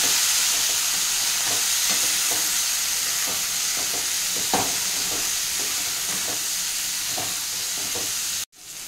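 Thin raw banana slices fry in a pan as they are stirred, a steady close sizzle with soft, irregular scraping and stirring knocks throughout.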